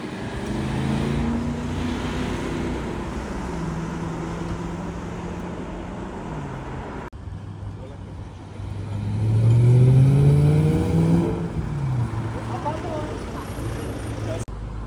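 A BMW M3 E92 with a V8 engine passes by on a street in Gérardmer, its engine note building to a loud peak mid-pass then fading, over steady background traffic noise.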